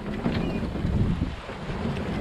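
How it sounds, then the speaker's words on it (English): Strong wind buffets a sailboat at sea, a loud, gusty roar with heavy low-frequency rumble and wind battering the microphone, steady throughout with no talking. "it's just been screaming all day here. So if this wind dies down to about 10 to 15, I won't complain a bit."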